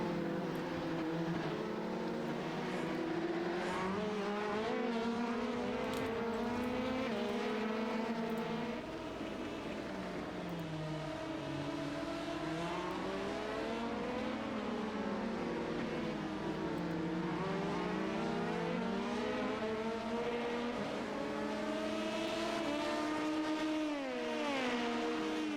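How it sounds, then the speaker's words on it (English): LMP2 prototype race cars sweep through the fast Blanchimont corner at a sports car championship round in Belgium, their engines droning loudly and continuously with rising and falling pitch as several cars pass close by. "As LMP2 cars make their way through Blanchimont"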